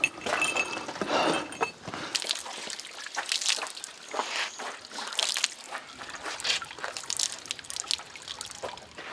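Water trickling and splashing at a hand-washing basin at a Japanese temple, with light clinks mixed in, steady and close.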